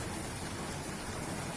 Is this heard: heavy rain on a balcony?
yes